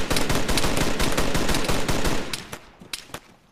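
Video game gunfire: a long, rapid automatic burst, loud and close, fills most of the moment before tapering into a few separate trailing shots.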